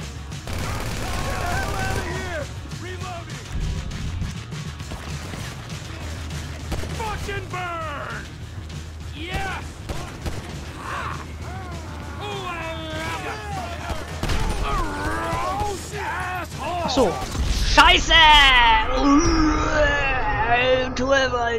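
Uzi gunfire in the video game GTA V, bursts of rapid shots scattered among other game sounds, with someone talking excitedly over the action throughout.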